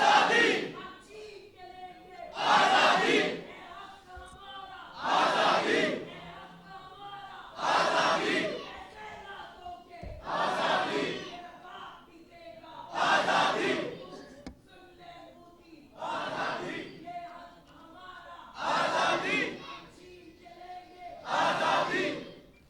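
A crowd at a political rally about Kashmir chants slogans back in unison. Loud, rhythmic shouted bursts repeat every two to three seconds, with brief quieter gaps between them.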